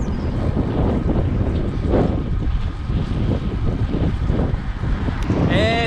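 Strong wind rushes and buffets steadily against the microphone while riding a bicycle along a road with no cycle lane, a loud continuous roar with gusty swells throughout.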